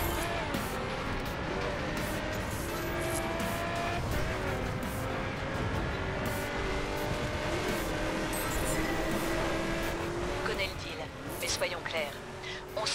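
A car drives in The Crew racing game, its engine droning steadily with changing pitch while tires squeal briefly, a loud continuous mix of game sound throughout.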